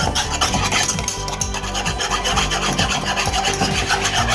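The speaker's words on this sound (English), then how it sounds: "Make sure that you break up all of the cornstarch by whipping it with your whisk." A whisk beats a cornstarch slime mixture in a bowl with fast, rhythmic scraping and rubbing strokes, dense and continuous at close range with no voices.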